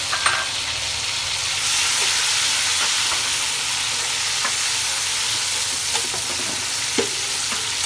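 Two medium chopped tomatoes are added to browned garlic and ginger in a pan and fry with a steady hiss and sizzle, with occasional small stirring clinks, moderately loud and with no talking.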